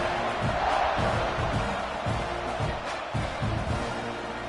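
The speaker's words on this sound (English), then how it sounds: "this crowd is buzzing after that last score" A stadium crowd buzzes in a college football video game after a score between USC and Texas A&M, a loud, restless roar that swells and dips in uneven surges throughout.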